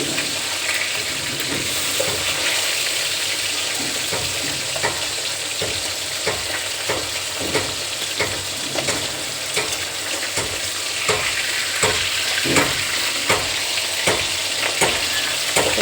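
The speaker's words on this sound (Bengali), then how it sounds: "তার জন্য মাছগুলো এই যে ভাজা বসিয়েছি।" Fish frying in a pan on a home kitchen stove: a steady, loud sizzle and spatter runs throughout, broken by faint clicks of stirring, with no talking.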